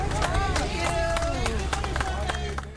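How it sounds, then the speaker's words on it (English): Relieved neighbors clap outdoors as a police standoff ends, a brisk scattered round of hand claps mixed with crowd chatter and voices. "That has relieved neighbors clapping."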